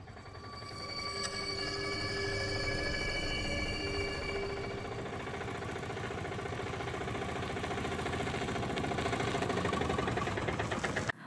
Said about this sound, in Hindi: दूर से एक ऑटो आता दिखा